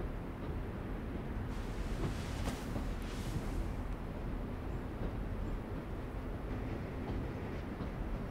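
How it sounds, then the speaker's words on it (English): A train in a video game rumbles along steadily, a broad, continuous rolling noise with no speech over it. "Why the train? You always pick the train."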